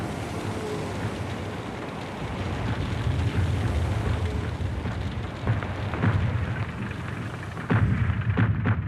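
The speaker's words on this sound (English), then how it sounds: "The next salvo did better, crashing down on the railway station." Heavy artillery shells burst on a railway station during the Battle of Verdun, a dense rumbling barrage with several sharper booming impacts rising out of a continuous roar.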